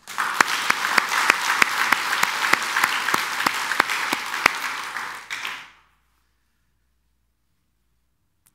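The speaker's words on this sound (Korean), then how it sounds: "우리 한번 크게 한번 박수하겠습니다." A church congregation celebrating its tenth anniversary breaks into loud, sustained applause with sharp individual claps standing out, then the clapping fades away and leaves silence.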